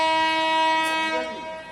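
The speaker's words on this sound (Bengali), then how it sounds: "এটা আমার ট্রেন না, এটা লোকাল ট্রেন" A local train passes on the line, carrying a steady, loud horn-like tone with stacked harmonics that bends downward in pitch as it moves by over under two seconds.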